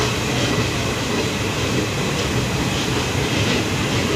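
A DEMU passenger train, service 07526 from New Mal Junction in North Bengal, rolls into platform two with a loud, continuous rumble and rattle of wheels on rails, heard close up without talk.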